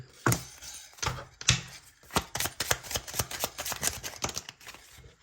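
Tarot cards being shuffled by hand in a quiet room: quick crisp riffling slaps and clicks, close and soft, coming in short uneven bursts with brief pauses between.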